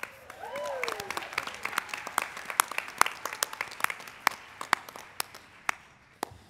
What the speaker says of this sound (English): please give all of the registry attorneys another great big round of applause